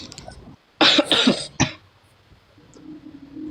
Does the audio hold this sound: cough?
yes